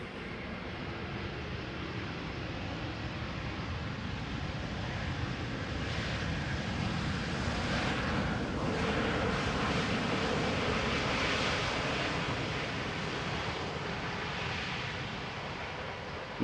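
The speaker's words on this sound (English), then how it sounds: "A320neo from EasyJet arriving from Geneva" An EasyJet Airbus A320neo arriving from Geneva at Amsterdam Schiphol Airport makes a broad jet engine roar that swells to a peak midway and slowly eases off, heard from a distance with wind, no voices.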